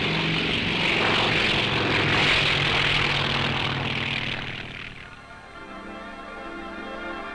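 A North American T-28 trainer's propeller engine drones loudly as the plane passes close by, then the roar fades to a steadier, more distant hum with a low tonal buzz.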